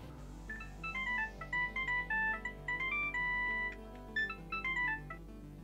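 A mobile phone ringtone plays a bright, melodic electronic tune in repeated short phrases, steady and fairly close, with no talk over it.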